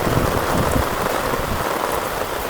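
Heavy monsoon rain pours in Surat amid strong wind, a dense roaring downpour hitting surfaces close by, loud and constant throughout.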